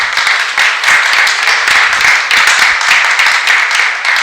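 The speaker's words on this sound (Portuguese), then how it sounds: "Você pode aplaudir a Deus por isso?" Applause and clapping from a church congregation during a sermon, a dense, loud, steady wash of many hands filling the whole stretch without pause.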